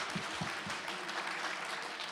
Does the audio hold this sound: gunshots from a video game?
no